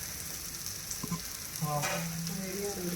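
Sweet potato tikki shallow frying in a pan of medium-hot oil, a steady close sizzle with crackling bursts and a few soft scraping stirs, no voices.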